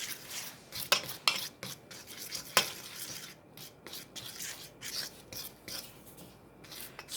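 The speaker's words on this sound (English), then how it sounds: "Scraping, picking up dough as we go." Pasta dough being scraped and mixed up from the bottom of a bowl, producing soft, uneven rubbing and rasping strokes with a few sharper scrapes early on, close and fairly quiet with no voices.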